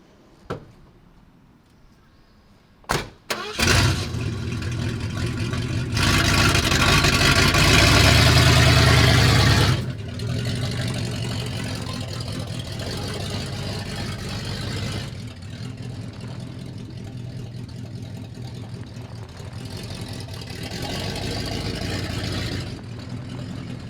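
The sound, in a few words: vehicle engine starting and moving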